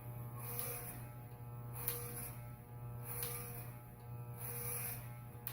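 Electric hair clippers buzz steadily through a self-done haircut, a close, continuous mains-pitched drone that swells and dips in repeated passes as the blades move over the head, with no talking.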